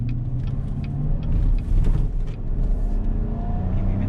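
A 2019 Chevrolet Silverado pickup with the 5.3 engine accelerating, a loud, steady low rumble of engine and road noise heard from inside the cab, with no talk.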